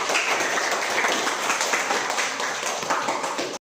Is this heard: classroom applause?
yes